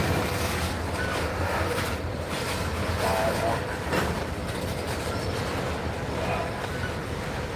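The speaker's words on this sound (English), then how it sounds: "There comes our switcher." New York Central switcher locomotive rolling past with train cars, a steady rumbling roar with faint wheel clatter and a few sharper clanks, fairly close.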